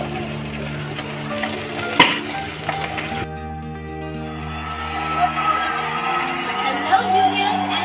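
Pieces of catla fish frying in hot oil give a continuous crackling sizzle, brighter for the first few seconds and then softer, with a low steady hum and someone talking over it.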